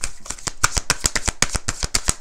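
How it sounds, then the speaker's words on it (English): Tarot cards riffle-shuffled by hand in a rapid run of about a dozen crisp, close flicks and slaps, steady and evenly spaced, with no talking. "Shuffle and get a few more."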